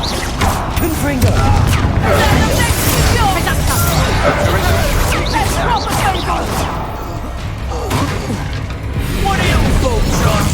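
Fire spells cast in a Hogwarts Legacy duel burst in repeated explosive booms and crashes amid clashing combat effects and background voices, loud and dense throughout.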